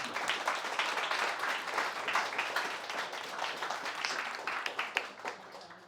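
Audience applause after a talk on software testing, a dense steady patter of many hands clapping at moderate level for the whole stretch, without a break or any speech over it.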